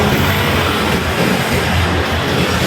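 Road traffic roars past on a busy street around nine o'clock while the listener rides along, a dense, steady wash of engine and tire noise with no pauses.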